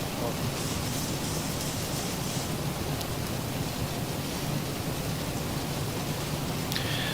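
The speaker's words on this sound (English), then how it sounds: "Look at that rain." Steady rain in the X-Plane 12 flight simulator with the Zibo mod, a dense, even hiss of drops with a low rumble underneath and a brief sharper tap near the end.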